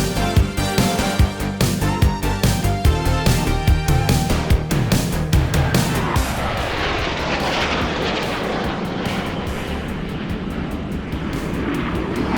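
A fighter jet in flight during aerobatics, with a loud, roaring engine and rushing air that pulse at first and then settle into a steady, broad roar with no voices.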